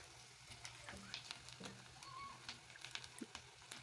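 Onions frying in oil for an omena (lake sardine) dish, a quiet steady sizzle with scattered stirring clicks and scrapes throughout, no one speaking.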